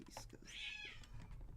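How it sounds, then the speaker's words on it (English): Cats meowing in a kitchen, with one drawn-out meow in the middle heard faintly at a distance through light room noise. "something's going on in the kitchen with the cats."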